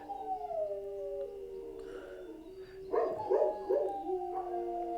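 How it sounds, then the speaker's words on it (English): Several dogs howl together in long, wavering, overlapping cries that rise and fall, fairly faint and distant, with a burst of louder howls in the second half. "the dogs are going crazy"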